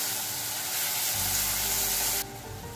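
Finely chopped onion sautés in oil in a pan with a steady, close-up hissing sizzle that swells midway and then eases off a little, with no voices over it.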